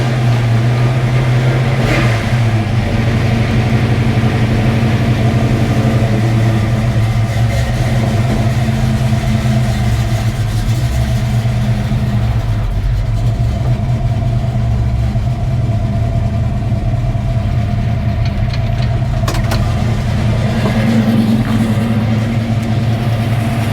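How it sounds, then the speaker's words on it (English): A car's engine runs steadily at idle with a low, continuous hum as it is eased off a set of ramps, loud and close throughout with no talking. "Let's get the car off these ramps and we can finally get it out on the road"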